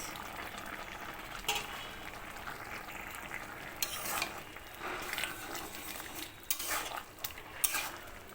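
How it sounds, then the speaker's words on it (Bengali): Fried prawns being stirred into a taro stem curry in a pan, a soft steady bubbling with scattered scraping stirs and a few sharper utensil knocks against the pan, heard up close with no voice. "চিংড়ি মাছটা দিয়ে মিশিয়ে নিচ্ছি"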